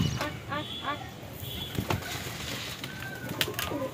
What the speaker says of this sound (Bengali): ওই যে বোন এসছে পায়রাকে খাবার দিতে